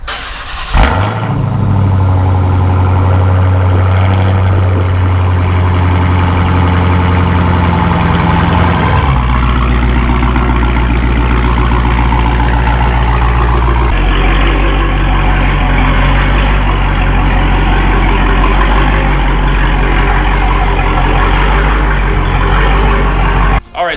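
A Dodge Hellcat's big engine starts up and idles loudly and close by, a deep steady rumble with a shift in tone partway through as it backs into a garage.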